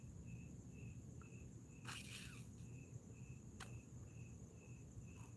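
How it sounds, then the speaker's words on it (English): Crickets chirp in a steady, evenly spaced pulse against a low rumbling background, with a couple of brief scrapes and clicks nearby. "I can hear the crickets just cricking away."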